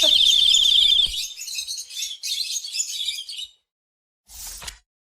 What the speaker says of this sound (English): I hear the birds sing in the breeze.